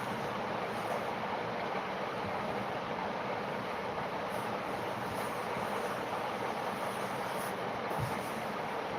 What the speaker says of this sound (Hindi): ट्रेन में हूँ